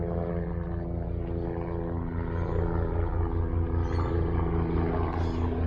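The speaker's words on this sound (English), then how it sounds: "I've got a helicopter up there." A rotor aircraft drones overhead with a steady low throbbing hum that swells slightly louder partway through.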